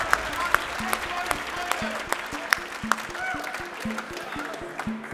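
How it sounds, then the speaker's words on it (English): Audience applause for demoscene award winners at the Revision 2018 party, a crowd clapping steadily under a regular thumping beat of music, with occasional whoops and louder claps standing out. "Clap your hands."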